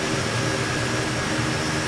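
An airplane engine roars steadily while landing in Microsoft Flight Simulator, a loud continuous drone with no talking.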